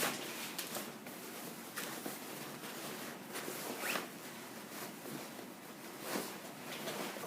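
A zip sewn into lining and main fabric is handled while making an off-shoulder V-neck cape blouse, giving soft, faint scratchy rasps and rustles in irregular bursts, close by with no talking.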